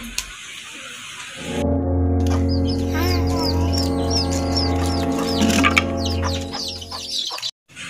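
Hens clucking and squawking in short, irregular bursts during feeding, over a steady low engine-like hum, with a few sharper calls near the end.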